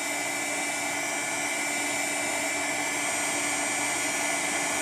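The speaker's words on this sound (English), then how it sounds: "How many of you like to heat emboss?" A heat gun blows steadily while heat embossing powder on a handmade Mother's Day card, giving a constant loud whirring hiss with a steady hum that runs alone and unchanged.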